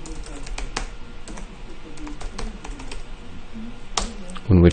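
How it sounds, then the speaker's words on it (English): Rapid clicking of a computer keyboard as someone types, irregular keystrokes close to the microphone with a few sharper taps and a louder clatter at the very end. "when we type that in"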